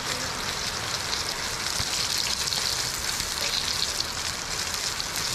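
Semolina-coated fish roe fries in oil with a steady, dense sizzle and crackle. It sounds close and constant throughout, with no talking.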